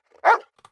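A single dog bark, close and clear, a short burst followed by a couple of faint softer yips, with no other sound around it.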